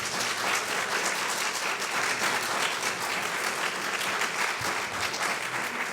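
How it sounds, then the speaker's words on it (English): A large audience gives a sustained round of applause honoring a speaker at a talk, dense and steady clapping at an even level throughout, with no voices rising above it. "How about a round of applause for Ed?"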